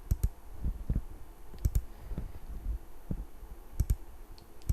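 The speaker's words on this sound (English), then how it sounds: "when you're clicking down through the days, it can take a while just to refresh itself" A computer mouse clicks through a DVR playback menu in short irregular bursts of sharp, close clicks, some in quick pairs, over faint room hum.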